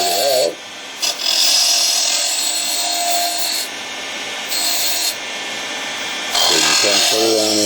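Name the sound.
spindle gouge back-dragging wood on a lathe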